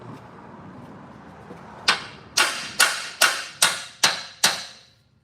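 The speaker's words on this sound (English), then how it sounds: "Get the hammer and tap that into place some good." Seven sharp hammer blows ring out at a steady pace, each a crisp metallic strike with a short decay, close by after a quiet start.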